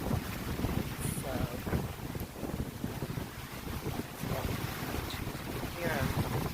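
Tropical Storm Elsa winds rushing through tall Italian cypress trees at night, a loud, continuous roar with gusts that swell and ease, buffeting the microphone.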